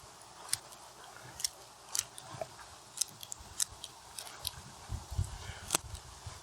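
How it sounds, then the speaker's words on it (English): Pruning shears snip through large stems of a Japanese niwaki cloud-pruned topiary: sharp, close, isolated clicks spaced irregularly about once a second over quiet outdoor background. "we're going to take these large stems and cut them out and trim it back"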